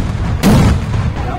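A paper bomb firecracker bursts once with a sharp, loud bang that rings out briefly amid faint background chatter.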